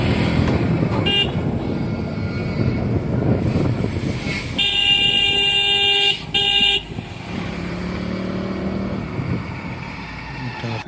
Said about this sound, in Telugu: చాలా కిలోమీటర్ల నుంచి ట్రాఫిక్ అయితే జామ్ అయింది.